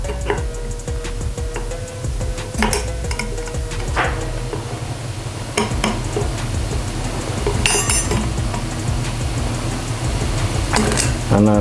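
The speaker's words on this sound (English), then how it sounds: "gently we will remove the" A brake rotor being eased off a Super73 e-bike wheel after its bolts are heated: scattered sharp metallic clinks and light taps, close up, over a steady low workshop hum.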